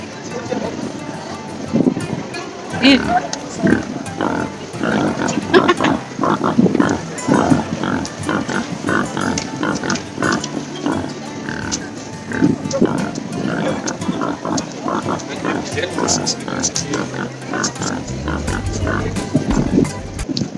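Many pigs oink and grunt continuously nearby, a dense noisy chorus with a person talking over it.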